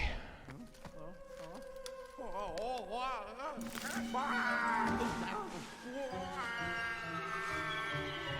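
A cartoonish cat meows repeatedly in Luigi's Mansion 3 amid game sound effects and music, the warbling calls rising and falling over several seconds while someone talks over the game.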